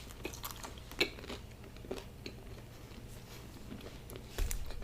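Close, quiet chewing of a bite of Haitian pizza topped with griot, peppers and pickles, soft mouth sounds and small crunches over a few seconds with a louder bite near the end, no talk.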